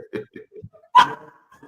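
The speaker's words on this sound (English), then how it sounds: "Let me get rid of these dogs." Dogs bark indoors, a few soft yips followed by one sharp, close, loud bark standing out from the quiet.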